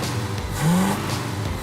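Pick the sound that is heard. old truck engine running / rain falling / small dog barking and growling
old truck engine running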